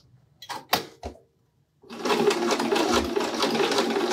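A sewing machine stitching a small pouch: a few brief mechanical clunks and a short pause, then a close, steady rapid whirring run of stitches that keeps going to the end.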